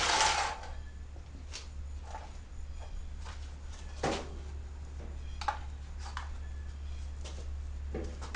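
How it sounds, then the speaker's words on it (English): An old 1950s tombstone arc welder runs with a strong, steady low electrical hum. Scattered clicks and short crackles sit on top of the hum, and no one speaks. "this is an old school tombstone welder, folks. It's got some noise to it."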